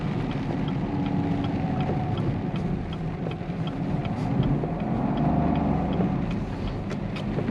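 A Chevrolet Camaro LT1 V8 with a six-speed manual rumbles steadily up close, with a brief stumble and rev change as the shift into second gear is missed.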